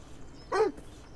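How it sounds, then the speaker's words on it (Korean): A dog barks once in the video game Beyond Eyes: a single short, fairly quiet bark that stands out against a near-silent background. "멍멍대지 마."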